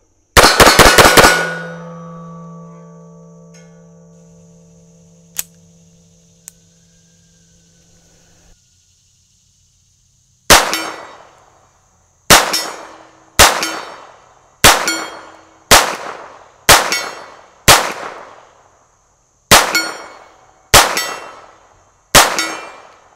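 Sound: Smith and Wesson Model 41 pistol shooting steel targets

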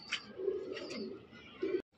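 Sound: Giribaz pigeons cooing

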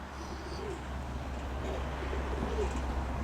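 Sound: pigeons cooing

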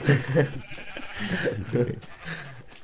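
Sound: sheep bleating in the Minecraft video game

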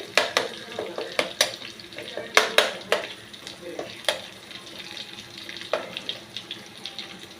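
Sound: ground spice paste frying in oil in a pan

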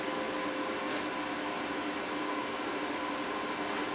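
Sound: Forney Easy Weld 140 FC-i flux core welder welding

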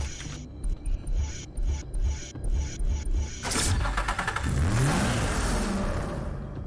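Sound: sports car engine revving in video game

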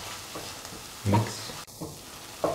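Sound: stirring and sizzling tomato rice in a pan

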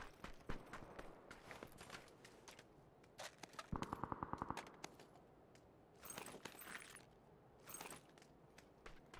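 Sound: gunfire in PUBG video game

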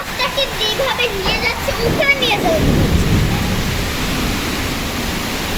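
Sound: Kalbaishakhi storm with heavy rain and wind

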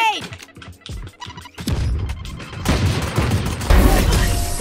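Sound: Raze grenade exploding in the video game Valorant

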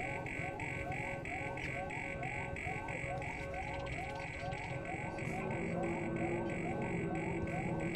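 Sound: alarm in video game Alien: Isolation

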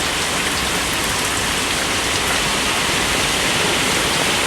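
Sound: heavy rain falling

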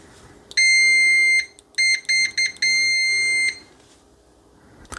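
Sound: T58C multimeter continuity test beep with Probe Masters probes

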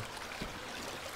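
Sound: river stream flowing near a dam

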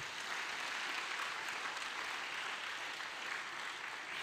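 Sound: congregation applauding in church

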